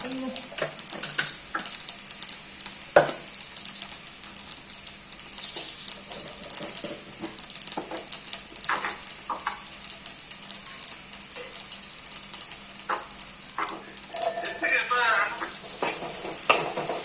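Steady sizzling and crackling of potatoes frying in a pan, with occasional scraping and stirring clinks and some faint talk in the background.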